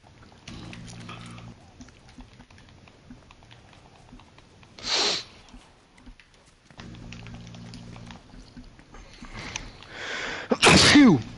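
Two sharp sneezes from a person, the first brief and the second louder and closer, separated by quiet background sounds with no talking.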